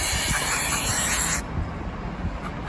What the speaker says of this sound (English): I'm gonna try the WD-40.